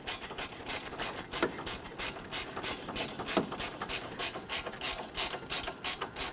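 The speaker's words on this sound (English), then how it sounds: "I'm simply going to use my gear wrench here on this side to go ahead and snug this one down" A gear wrench ratchet clicks in quick, regular bursts while snugging down an A/C condenser bolt on a 2006–2010 Hummer H3, close and clear with no speech.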